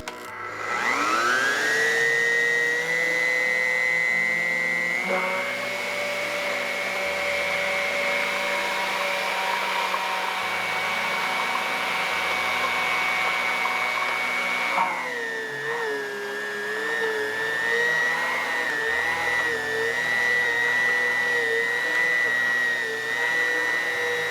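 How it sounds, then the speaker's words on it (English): A blender mixes turmeric salt soap ingredients until smooth, its loud steady motor whine running alone for about 24 seconds, dipping and shifting in pitch partway through. "Then I'm going to take my blender and we're going to blend all of this together till there is no more chunks and it's all smooth."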